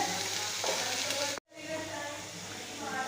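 Capsicum sautés with onions in a hot pan, a steady loud sizzle broken by one brief drop-out as the vegetables are stirred, then the frying hiss resumes.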